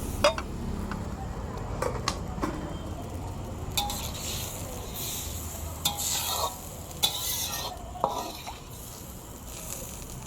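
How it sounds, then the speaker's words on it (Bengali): Water poured into Ritha fish curry cooking in a hot pan, a steady close hiss and sizzle with occasional clinks of a utensil against the pan. "আমি একটু পাতলা ঝোল রাখবো, তাই একটু বেশি পরিমাণে জল দিয়ে দিচ্ছি।"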